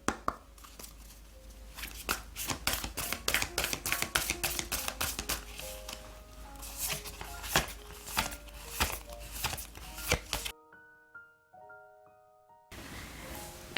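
Oracle cards shuffled by hand in quick, crisp riffles and slaps, dense rapid bursts up close, then a gentle chime-like tone plays alone before a soft hiss returns.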